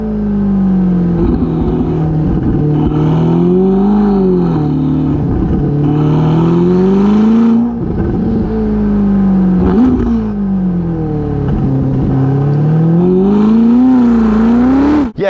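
Novitec Ferrari SF90 Spider with a Novitec sport exhaust and carbon fiber tips, revved repeatedly up close, a loud, deep exhaust note swelling and falling in steady waves.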